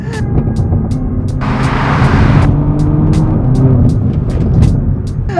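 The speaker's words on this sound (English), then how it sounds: "sport mode, knock it over, use that ZF gearbox, put your foot down and it flies" Alpina B3 in sport mode accelerating hard through its ZF automatic gearbox, a loud steady engine drone that swells with a brief burst of broadband rush midway, fairly close and continuous with no speech.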